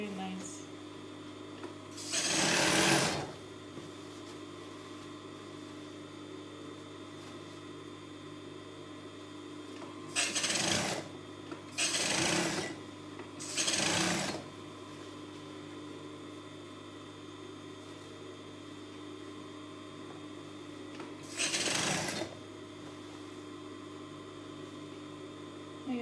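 Short sewing machine runs stitch an A-line dress in fabric set with stones and beads. Five brief whirring bursts, one early and a quick cluster of three midway, each stand above a low steady room hum.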